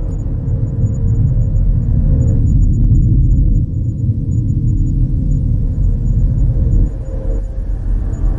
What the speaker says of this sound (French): Il y eut un coup de tonnerre.